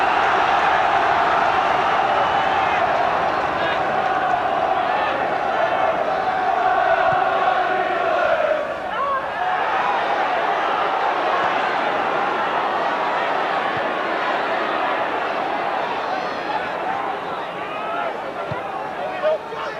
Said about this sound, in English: As the crowd get behind Blackburn again.